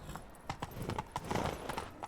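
Geralt's horse Roach gallops in The Witcher 3 Enhanced Edition, with quick rhythmic hoofbeats clopping steadily and fairly close over a quiet background.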